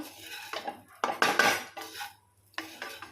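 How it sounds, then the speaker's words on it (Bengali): A spoon stirs and mixes rice with vegetables in a pan, making several close scraping and clinking strokes of metal on the pan with short pauses between, with no talking. "ভালো করে রাইসটাকে মিশিয়ে নেব"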